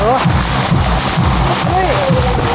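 Rain falls steadily outdoors, a constant splashing hiss under people talking and calling out excitedly close by.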